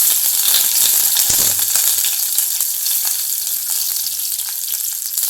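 Onion sizzles in hot oil in a pan, a steady, close, fairly loud hiss with faint stirring clicks and no talking.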